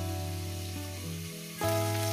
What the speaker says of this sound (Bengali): ফুলকপিটাকে এইভাবেই ভাজতে হবে।